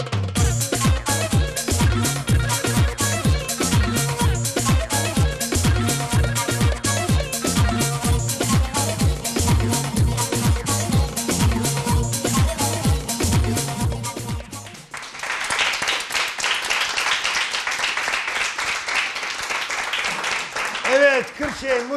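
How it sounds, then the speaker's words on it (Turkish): Studio audience applause on a Turkish daytime talk show, dense broadband clapping that swells in after a stretch of rhythmic music and continues steadily to the end. "alkış onlara da istiyorum"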